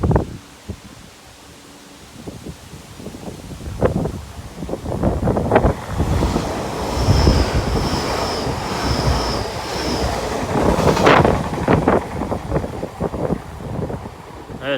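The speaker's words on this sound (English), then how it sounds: "we should actually see 2 empty coach stock IETs going through" Empty coach stock IET trains pass on the Wessex Main Line at Bradford-on-Avon, a rumbling passage that swells mid-clip under gusty wind buffeting, with a brief series of high repeated tones and rustling around it.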